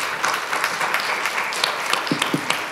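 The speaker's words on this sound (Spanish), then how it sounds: "Y un aplauso, por favor." Audience applause at the close of a Women in Tech round-table at OpenExpo Europe 2019, a sparse patter of individual claps at moderate distance lasting a few seconds.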